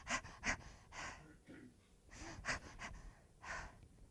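A person imitates a newborn's periodic breathing with a series of quick, breathy gasps and pants, irregular in rhythm and faint, with short pauses between bursts.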